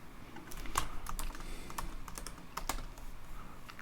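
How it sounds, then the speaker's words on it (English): Rapid, uneven typing on a computer keyboard during Ruby on Rails coding work, a steady run of close, crisp key clicks with a few sharper strikes and no talking. "And if I could type, we'd be in good shape."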